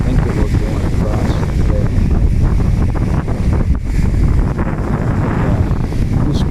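Stormy waves and strong wind on a Lake Erie-area shore near the Pelee Island ferries: a constant loud roar of surf mixed with heavy wind buffeting the microphone, with no letup.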